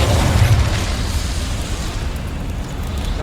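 Casting the Incendio fire spell in Hogwarts Legacy sets off a loud whooshing burst of flame that slowly dies down over a few seconds, with no voices.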